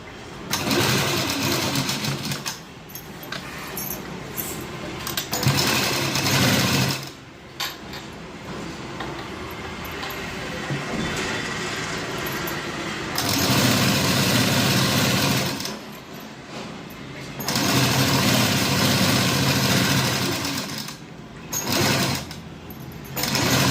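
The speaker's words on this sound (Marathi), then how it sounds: "इथून पॉकेटला यायचं शिलाई मारत मारत." A sewing machine runs in loud, steady bursts while stitching the side seam pocket of a gown, with motor runs starting and stopping in several segments and short pauses between them.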